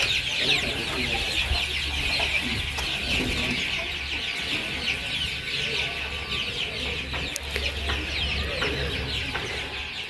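Chickens cluck and call continuously in a large backyard poultry shed used for raising chicks, with steady overlapping clucks close by and faint background noise.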